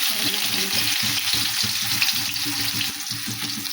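Mustard seeds and curry leaves sizzle steadily in hot oil, a loud continuous crackle and hiss with small pops running throughout, close up, for a North Karnataka style vada preparation.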